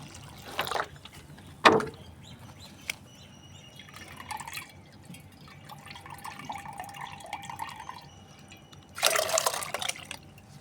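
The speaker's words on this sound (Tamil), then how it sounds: "இப்போ இதில் இந்த தண்ணியை ஊற்றுறோம்." Water is poured into a container while preparing a banana-based fertilizer, heard as soft splashing and trickling with a couple of louder pouring bursts near the start and end.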